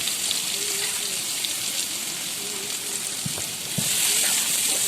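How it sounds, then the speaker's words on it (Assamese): Chopped onions and green chilies fry in hot oil for an Assamese fish curry, giving a steady, close sizzle with occasional utensil taps. "পিঁয়াজখিনি ভালকৈ ভাজি ল'ব।"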